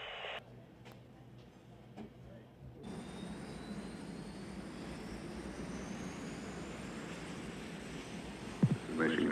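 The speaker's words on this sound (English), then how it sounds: "chase planes are taking off now at Edwards" Jet chase planes taking off at Edwards: after a few seconds of quieter background, a steady, loud, sustained engine roar builds and holds with a rising whine, with no talk.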